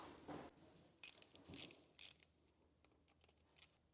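A ratchet turns the 8 mm bolts on the oil filter cover of a 2015 Husqvarna FE501 during an oil change. Several short, close clicking bursts come in quick succession, then quieter faint clicks follow.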